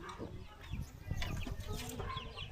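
Chickens at a rural yard in the Philippines cluck and chatter close by in a busy, overlapping flock, with short squawks and soft calls continuing throughout.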